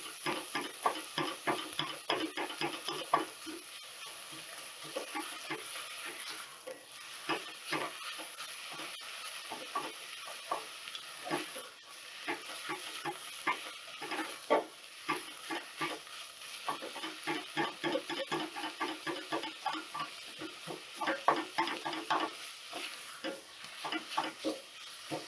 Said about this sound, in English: Go ahead and stir that around a little bit.